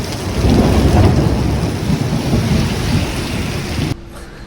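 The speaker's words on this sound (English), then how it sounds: "Thunder, lightning," A heavy thunderstorm near Mai Khao Beach on Phuket: loud, close rumbling thunder over steady pouring rain, with no talking, ending abruptly.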